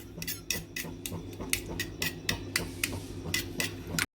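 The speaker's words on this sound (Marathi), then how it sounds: "आता हे सगळं छान मिक्स करायचं" A utensil beats an omelette egg mixture in a bowl, steady quick taps and clinks repeating close by at a brisk rhythm.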